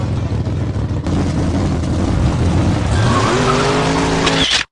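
A junker car launching hard off the line against a souped-up rival, engines roaring loudly with rising whine and a building tire squeal before cutting off abruptly.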